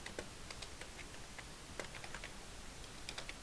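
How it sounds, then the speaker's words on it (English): Light, quick keystrokes tap on a computer keyboard in irregular bursts, faint and close, with no voices over them. "Typing."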